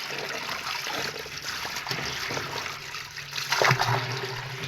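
Water running from a hose into barrels on a garden plot, a steady trickling and splashing stream, close and continuous, swelling briefly near the end.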